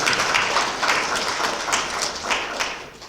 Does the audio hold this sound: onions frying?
no